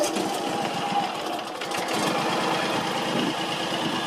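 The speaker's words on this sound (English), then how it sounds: "Let me just start the engine, and hopefully you guys gonna be able to see the difference." A John Deere X320 lawn tractor engine runs steadily at close range, a continuous buzzing, rattly drone with no talk over it.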